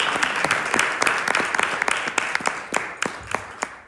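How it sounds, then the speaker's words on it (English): An evening audience honoring a congressman at a library gathering breaks into applause, a dense burst of sharp hand claps close by with individual claps standing out, sustained briefly on its own. "Please give yourselves a round of applause."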